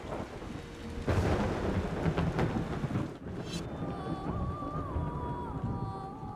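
A thunderstorm in the video game Yonder: The Cloud Catcher Chronicles while sailing a boat: loud rumbling thunder and sharp cracks over steady heavy rain, followed by a lingering wash of rain with faint tonal game sounds.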